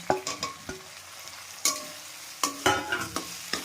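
Tomatoes frying with garlic masala in a pan, a steady soft sizzle broken by a series of sharp scraping clinks from a spoon stirring against the metal, close and moderately loud, with no talking.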